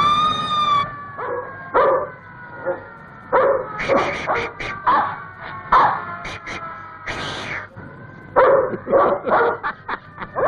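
Dog barking in a 1959 Mexican Santa Claus film, repeated sharp barks in quick bursts over a busy soundtrack with a siren-like tone and background music.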